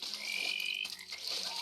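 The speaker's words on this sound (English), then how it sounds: "There's some frogs bouncing around there." Frogs croak in the survival game The Wilds, a faint, short burst of chirring calls over a soft ambient bed, with no voices.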